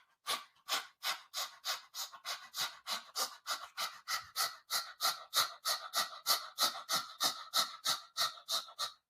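Rapid open-mouthed panting like a hot dog, done with the tongue out as a yoga breathing exercise: about thirty quick, even breaths in a steady rhythm, close and alone.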